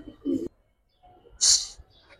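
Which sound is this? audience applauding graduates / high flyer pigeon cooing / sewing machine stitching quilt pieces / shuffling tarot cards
high flyer pigeon cooing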